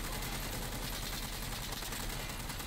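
Sustained automatic gunfire from a jeep-mounted turret in the shooter game Insurgency Sandstorm, a dense, continuous rattle of rapid shots lasting throughout, loud and unbroken with no voices.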